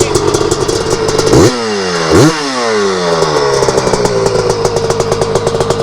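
A 250R dirt bike engine revs hard at high RPM, its pitch swooping down and back up twice before settling into a steady, loud drone.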